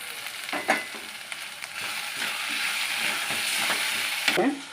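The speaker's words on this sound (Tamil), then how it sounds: "கொஞ்சம் தக்காளி வதங்கட்டும், எண்ணெய் திரிஞ்சு வரட்டும்." Tomatoes fry in hot oil for a shallot and tamarind curry, giving a steady close sizzle with occasional scraping stirs of a spoon against the pan and no talking.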